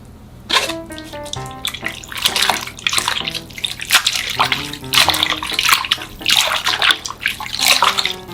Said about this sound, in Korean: 찬물에 바로 건져서 담가서 열기를 좀 식혀주세요